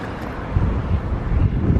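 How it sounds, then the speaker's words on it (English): Wind buffeting a microphone outdoors at Rickwood Field baseball park, a low rumbling roar with uneven gusts, steady and close, no talking. "it's pretty windy"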